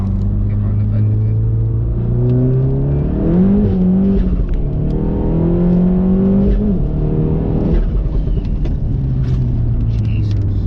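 A Stage 2 400+ bhp Volkswagen Golf MK7 R accelerates hard around a roundabout, its engine droning and rising in pitch through a steady loud rumble, with someone talking over it throughout.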